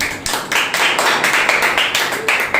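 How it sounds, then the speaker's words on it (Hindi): A church congregation at a Wednesday service claps loudly together, producing dense, rhythmic bursts of hand claps that pulse in quick succession, close and energetic, with no speech over them. "और परमेश्वर के लिए सबसे पहले एक बार जोरदार तालियां।"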